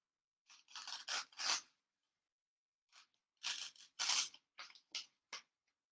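Scissors snipping paper during an origami session, two separate bursts of short, crisp cuts, several snips in each, close and clear against near silence.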